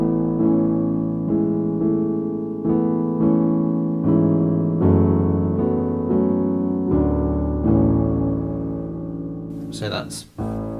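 Piano plays part of a song, a steady sequence of sustained chords and melody notes at moderate volume, ending with a brief spoken voice.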